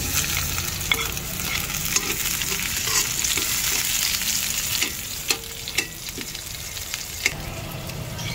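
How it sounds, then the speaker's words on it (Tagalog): Garlic and onion sautéing in a pan, a steady close sizzle running throughout with occasional sharp clinks of a utensil stirring against the pan. "gisa na sa bawang guys. Onion."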